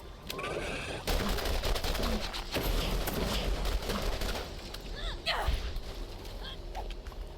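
Pistol fire rattles through a Borderlands firefight, sharp repeated shots layered over dense background combat noise, with someone talking intermittently.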